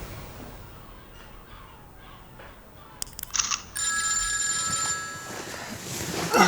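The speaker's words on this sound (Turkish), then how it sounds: "Ne olur o telefona bakma." A telephone rings with a bright electronic ringtone that starts partway through and keeps repeating at a steady level. Faint background noise comes before it.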